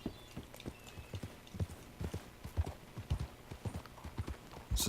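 Horse hooves clip-clopping in the video game Red Dead Redemption II, an irregular trotting pattern of distinct thuds close by, fairly quiet, with faint background ambience.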